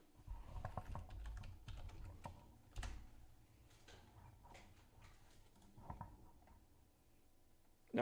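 Typing on a computer keyboard at a PC setup, irregular bursts of close, crisp key clicks with a few heavier thumps and pauses, fairly quiet with no speech.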